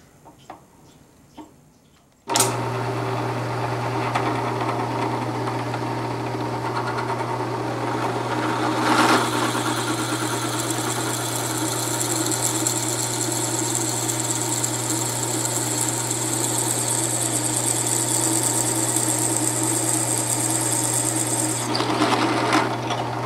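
A steady, loud mechanical whine of a power drill boring through wood continuously, a low hum underneath and a brief change in pitch midway, with no talking.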